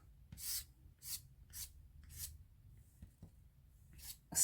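A plastic card scraping paint across an art journal page, five or six quiet, separate rasping strokes spaced about half a second apart, close and soft, with a slightly louder stroke at the end.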